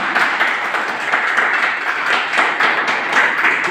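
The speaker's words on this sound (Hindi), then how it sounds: "जबरदस्त तालियां" Seminar audience clapping together in a steady, continuous wash of applause, fairly loud and sustained throughout without any voices over it.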